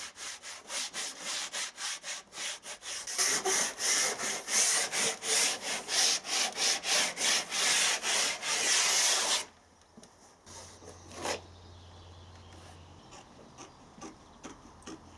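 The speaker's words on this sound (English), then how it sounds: "a very dusty sanding to finish off" Hand sanding a curved wooden screen masking for a home cinema acoustically transparent screen: rapid rhythmic back-and-forth rasping strokes, close and loud, then stopping abruptly, leaving quiet room tone with a brief scrape.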